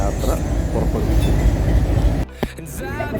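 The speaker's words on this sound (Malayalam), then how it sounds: "നമ്മുടെ ട്രെയിൻ ഫൈനലി ഇവിടെ ഷൊർണൂർ റെയിൽവേ സ്റ്റേഷനിൽ നിന്ന് മൂവായി തുടങ്ങി" A diesel-hauled passenger train pulls out of Shoranur railway station, a steady loud rumble of engine and rolling wheels filling the first two seconds before easing to a quieter hum with faint sounds on top.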